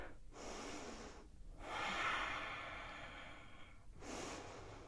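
Slow, deep yoga breathing close to the microphone, with long airy inhales and exhales alternating with short quiet pauses; no talking.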